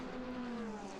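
GT race cars, Ferrari and Porsche, racing at Monza, a single engine note droning steadily with a slight pitch fall as a car passes, moderately distant, no talking.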